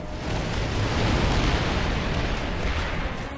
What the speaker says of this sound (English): If it's orange, that means there's a bunch of explosions.